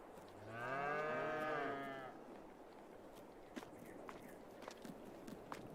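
A single long, loud moo from a cow in Farming Simulator 22 opens the clip, followed by quieter footsteps and light thumps.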